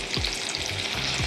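Green beans and garlic fry in a pan alongside pan-fried trout, giving a loud, close, continuous crackling sizzle with a couple of low thumps as they are stirred, with no talking.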